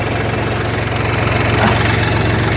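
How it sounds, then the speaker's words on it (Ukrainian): A YTO 244 SX tractor engine idles steadily nearby, a loud, even low rumble with constant chugging throughout. "Тракторець працює е, сильно"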